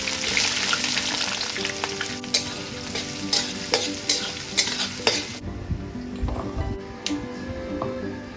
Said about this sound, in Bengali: এবারে পেঁয়াজগুলো যে চপ করেছি চপ দিয়ে দেবো